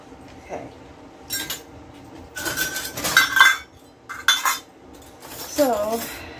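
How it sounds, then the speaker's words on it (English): Clean cutlery and dishes are put away in a kitchen, with several bursts of metallic clinking and clattering spread across the clip, near and fairly loud, separated by brief quiet gaps. "Put away some clean dishes."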